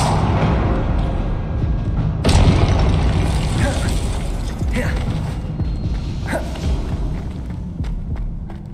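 Confringo blasting spell bursts in Hogwarts Legacy, several sharp explosive cracks spaced a second or two apart, the first the loudest, over busy combat rumble and a voice casting spells.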